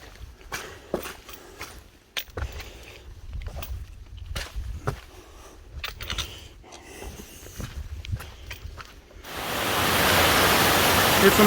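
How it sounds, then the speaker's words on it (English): A river rushes after heavy rain, first heard faintly behind footsteps and movement, then rising to a loud, steady, close roar of churning water over the final seconds. "It's amazing the power of water."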